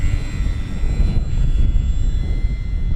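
A radio-controlled Durafly P-40N 1100mm model warplane with full flaps flies slow at about a third throttle, its electric motor giving a steady, loud, even drone overhead.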